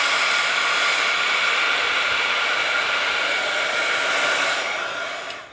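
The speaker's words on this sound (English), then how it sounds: "I like to hold my heat tool like on an angle because it seems to burn the embossing powder more evenly" A craft heat tool blowing hot air to melt clear embossing powder on patterned paper, a loud, steady whooshing hum held close throughout, trailing off slightly at the end without any voices.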